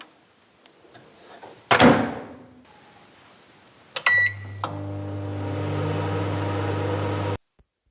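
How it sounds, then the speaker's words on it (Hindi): A microwave oven door shuts with a firm clack, followed by a beep and a steady loud hum as the oven runs for a few seconds before cutting off abruptly. "इस तरह से इसको ओवन में रख देते हैं और ओवन कर देते हैं बंद।"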